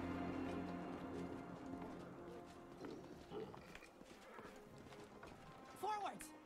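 Horses clip-clop along at a walk in the fantasy role-playing game Pathfinder: Wrath of the Righteous, a faint game soundscape with a brief whinny-like sound near the end, under steady talk.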